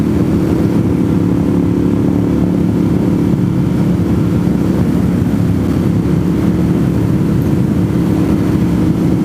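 A motorcycle rides along a road in Georgia on a chilly 68-degree day, its engine a steady, loud, continuous drone with wind rumble and no gaps.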